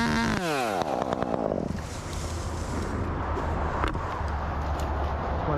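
A chainsaw cuts into a bigleaf maple during a tree removal, a loud, steady close-up engine drone that settles into a rough, sustained buzz, with wind noise on the microphone.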